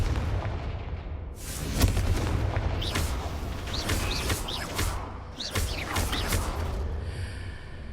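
Confringo blasting spell explosions in the Hogwarts Legacy video game, a run of loud booming blasts with crackling debris and whooshing spell effects over rumbling combat noise, close and dense.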